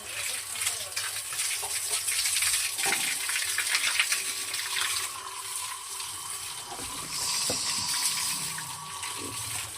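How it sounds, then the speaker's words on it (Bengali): Water from a motor-driven pump gushes and splashes out of a pipe onto a cowshed floor, a steady moderately loud wash with scattered splashes, while a person talks over it. "পানি চলে আসছে"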